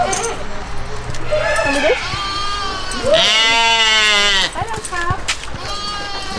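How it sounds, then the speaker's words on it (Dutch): A sheep bleats repeatedly up close at a petting farm, loud wavering calls that overlap with people talking nearby. "Hallo, schaap."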